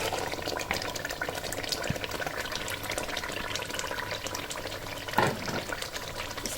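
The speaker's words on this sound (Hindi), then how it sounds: "अब इसमें हम ये मैरिनेट किया हुआ चिकन शामिल कर देंगे।" Marinated chicken pieces tipped into hot oil-separated masala of softened onions and dried-down tomato for achari chicken, giving a steady, dense sizzle and frying hiss with a brief louder burst near the end.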